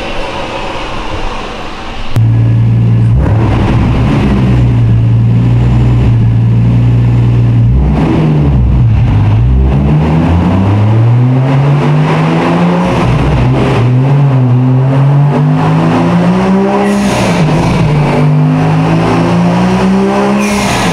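Kenny's Toyota Supra, wastegate capped off, revs hard on a dyno, a loud, close, sustained engine roar whose pitch climbs and dips through repeated pulls for about twenty seconds, with no talking.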